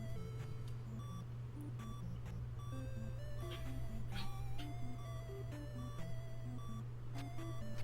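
Zelda II randomizer gameplay during a tournament, with a steady stream of repetitive electronic beeps and chiptune tones over a constant low hum.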